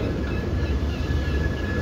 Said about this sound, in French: C'est le plus vieux tramway encore en circulation sur le réseau TPG.